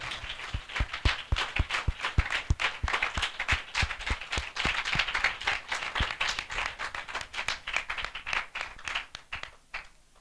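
A congregation at a spiritual assembly gives rhythmic applause, sharp claps in a steady beat, close and fairly loud, gradually thinning out toward the end.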